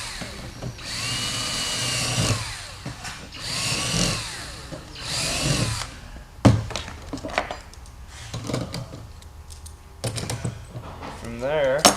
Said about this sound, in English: I'll continue to drill my other holes.